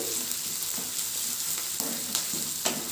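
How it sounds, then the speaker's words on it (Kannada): Onions fry in a pan with a steady close sizzle, broken by soft, regular scrapes and taps as they are stirred. "ಚೆನ್ನಾಗಿ ಫ್ರೈ ಆಗಬೇಕು ಈರುಳ್ಳಿ"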